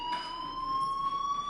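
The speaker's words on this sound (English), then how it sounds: "Hey, do you hear that fire alarm?" A school fire alarm rings in the Life is Strange video game on PS5, a loud, steady electronic tone that holds unbroken throughout.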